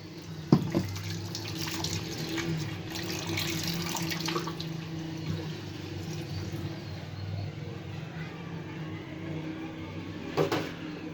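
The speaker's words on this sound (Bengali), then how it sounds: "আমটা আমি ধুয়ে নিচ্ছি। আমটাকে আমি জলের মধ্যে রেখে দিই।" A mango is washed and left in a bowl of water in a home kitchen while lentil dal is prepared, giving a steady low sloshing and trickling water sound with a few soft knocks, near and moderately quiet, without talk.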